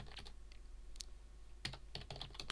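Computer keyboard keys pressed for a Control-V paste, a few crisp clicks in short separated bursts, close and fairly quiet with no talking.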